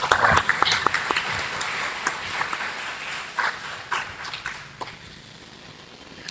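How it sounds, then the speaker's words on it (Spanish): Audience at a constitutional law congress applauding a guest speaker, scattered sharp claps that start fairly strong and thin out into sparse, uneven hand claps toward the end. "Recibimos con fuertes aplausos"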